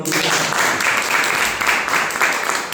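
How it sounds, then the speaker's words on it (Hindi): Audience at a live speaking event clapping steadily and fairly close, a dense unbroken patter of applause throughout with a faint murmur underneath. "ताली होना चाहिए"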